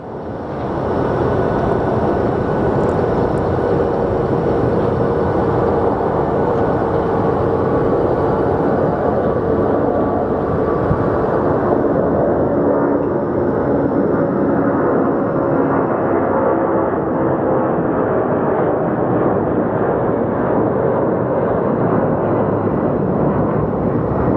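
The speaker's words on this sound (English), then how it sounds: "we do have our 767 departing. Should be a loud plane." A Boeing 767 airliner departing Phoenix Sky Harbor Airport, heard as a loud, continuous jet engine roar that stays strong and steady throughout with a broad rumbling texture.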